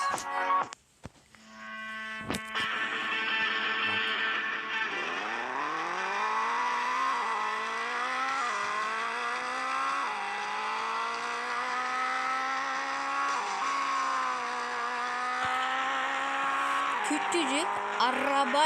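A small car in a driving video game revs continuously with rising and falling engine pitch and squealing tires, loud and steady throughout, with a person talking over it.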